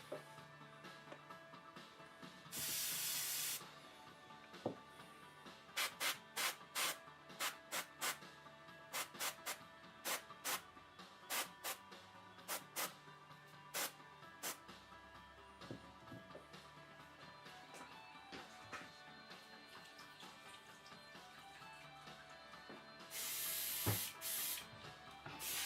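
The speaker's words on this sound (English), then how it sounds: "I'm going to spray the mouth and then use a little bit of brushwork between the teeth." Short hissing bursts of white spray paint from an airbrush-style sprayer on a figure's mouth and teeth, coming in a rapid series of brief puffs with a couple of longer sprays at the start and end, close and fairly quiet.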